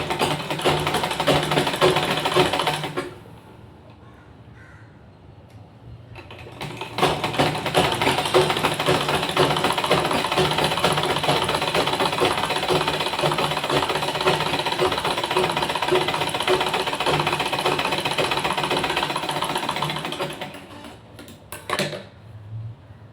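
A sewing machine stitches blouse fabric in long, loud, rapid runs. The first burst stops after about three seconds, and after a short pause the machine runs steadily for nearly fifteen seconds before it stops.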